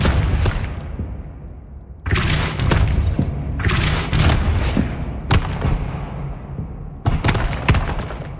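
The Depulso force spell is cast in the video game Hogwarts Legacy. It comes as a series of heavy booming thuds and blasts, several loud bursts in a row separated by short pauses, with no talk.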